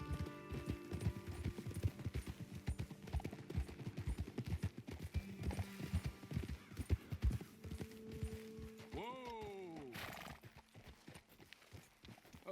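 Horse hooves clip-clopping on a trail in the Western video game Red Dead Redemption 2, a steady close rhythmic clatter through most of the stretch, joined near the end by a brief whinny.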